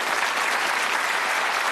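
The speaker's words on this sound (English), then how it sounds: "Give them a round of applause." A studio audience on the Bullseye game show claps for the contestants, a short burst of loud, dense applause with no break.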